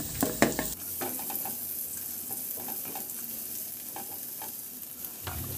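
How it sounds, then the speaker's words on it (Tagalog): Garlic sautéing in oil in a pan crackles and sizzles steadily, with a few sharp scrapes and stirring clatters at the start and scattered spits throughout, close up and with no voices. "igisa ko na yung bawang"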